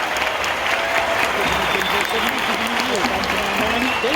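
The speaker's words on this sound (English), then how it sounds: "Let's give a final round of applause to the team behind Landscape of the Film." Sustained, loud audience applause at the 2023 Sundance world premiere of Landscape With Invisible Hand, a thick wash of clapping that holds steady throughout before cutting off abruptly.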